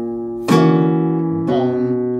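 Flamenco guitar playing a farruca turnaround: a sharp, bright rasgueado strum rings out, followed a second later by a second strummed chord, both close and sustained with no voice.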